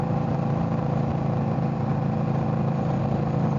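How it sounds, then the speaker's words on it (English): Steady low exhaust rumble from a 2022 Indian Scout Bobber 20 motorcycle while riding, a continuous even drone with no talk over it. "I don't know if the sound of this exhaust is coming through"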